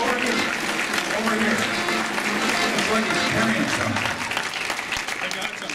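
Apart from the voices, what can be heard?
applause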